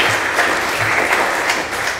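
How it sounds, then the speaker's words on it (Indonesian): Congregation at a Sunday church sermon breaks into loud, continuous applause, a dense even wash of clapping from a room full of people. "Kasih tepuk tangan untuk Tuhan."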